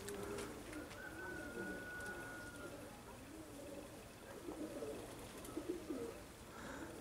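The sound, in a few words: pigeon cooing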